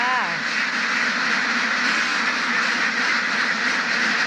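Ducks on a farm where eggs are being collected quack in a busy, continuous chorus close by, with a few clearer honking calls at the start and a steady noisy background throughout.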